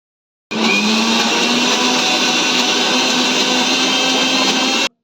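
An electric blender grinds white and black mustard seeds into a paste, a loud, steady whirring roar that starts abruptly, runs without a break for about four seconds, then cuts off.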